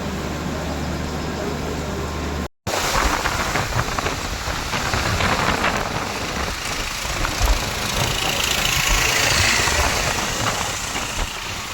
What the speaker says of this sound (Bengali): প্রচন্ড বৃষ্টি হচ্ছে, মেঘে মেঘ